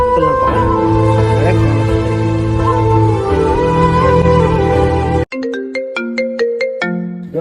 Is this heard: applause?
no